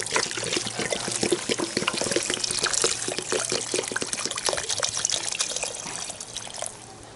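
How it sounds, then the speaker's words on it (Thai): Water pours steadily into a cooking pot for potato soup, a continuous splashing, gurgling stream heard up close that eases slightly toward the end. "เดือดแล้วใส่น้ำใส่น้ำท่วมเลย"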